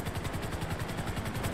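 A Coast Guard helicopter's rotor chops in a steady, fast rhythm over a low engine rumble, loud and constant, with no talking.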